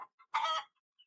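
A bad-tempered rooster on a muddy village farm lets out one short, loud, harsh squawk, framed by a couple of faint clucks before it and a brief high chirp afterward.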